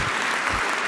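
Brief burst of congregation applause echoing in a cathedral during a Christmas Mass, a dense, even patter of clapping held at a steady level.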